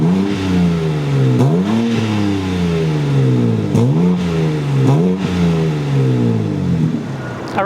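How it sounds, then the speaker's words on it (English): Exhaust of a 2022 BMW G80 M3 Competition xDrive being revved while parked: several sharp throttle blips rise and fall in pitch, loud and close, with a deep burbling idle between them and no talk. "let's get a quick exhaust clip"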